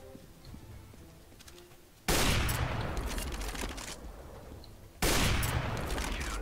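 Two loud bursts of rapid gunfire in the shooter game CS:GO, the first lasting about three seconds and the second starting later, each cutting in sharply over a quieter game background.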